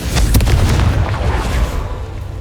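Confringo fire spell blast in the Hogwarts Legacy video game: a loud, close explosive boom with a sharp initial burst that rumbles and decays over about two seconds, no talk over it.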